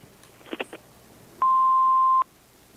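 An old-style answering machine plays a few short clicks and chirps, then a single steady electronic beep that holds for under a second before cutting off, clear against a quiet room.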